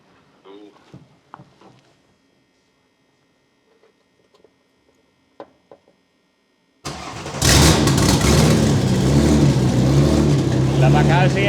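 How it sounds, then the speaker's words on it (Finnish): Quiet clinks and small movements, then a drift car's engine cranks and catches abruptly, settling into a loud, steady running rumble close by. "On muuten hyvän kuuloinen moottori."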